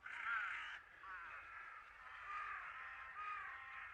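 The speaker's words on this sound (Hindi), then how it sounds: "शीरो, क्या तुम पता लगा सकते हो कि वो कौवे कहाँ गए हैं?" Crows caw in harsh, raspy calls that run together, fairly faint and at a distance.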